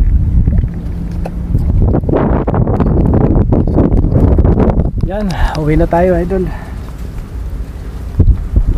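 Strong wind buffeting the microphone at a fishing spot in Taliptip, Bulacan, a loud continuous low roar and rumble throughout, with someone talking over it.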